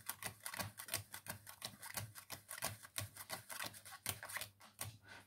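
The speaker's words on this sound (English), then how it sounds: "And then we just deal them into two piles." Playing cards are dealt one by one into two piles in a card trick, giving a steady run of soft, quick slaps and flicks up close, with no talking.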